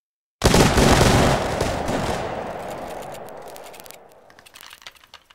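A massed musket volley fires in Mount and Blade 2 Bannerlord, a sudden loud crash of many shots at once that rolls into a long decaying rumble, with a few scattered late shots crackling as it fades.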